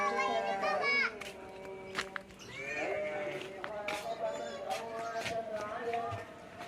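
Sheep bleat repeatedly in a pen, the calls loud and close, one long cry opening the scene and shorter bleats following; children's voices and chatter mix in around the animals.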